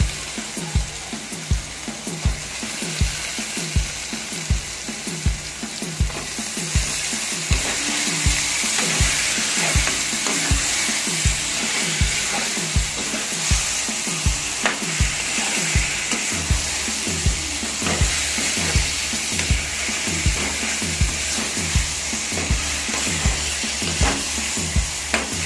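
Eggplant pieces sizzle and fry in a pan for a dry fish curry, with a steady hiss broken by rhythmic scraping stir strokes throughout, close and continuous, with no talking.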